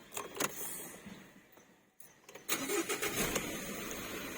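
A 2019 Ford Wildtrak pickup starts on a newly programmed key, with clicks and a short crank at the end of the first half, a brief gap, then the engine catching and running steadily nearby.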